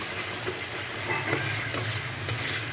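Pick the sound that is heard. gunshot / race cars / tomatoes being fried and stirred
tomatoes being fried and stirred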